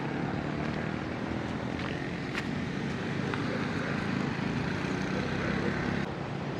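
A train runs through hill country between Badulla and Ella, heard as a steady, broad rumble that holds at an even loudness for the whole stretch and cuts off slightly near the end, with no talking.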